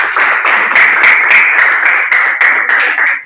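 Students in a classroom applaud together, a dense and steady round of clapping that stays loud for a few seconds with slight swells and dips.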